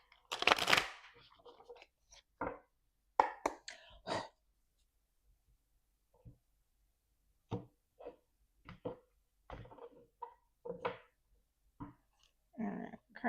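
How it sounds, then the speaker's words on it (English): Soft, scattered bursts of tarot cards being shuffled and riffled in short clusters, close up, with quiet pauses between them. "One last shuffle."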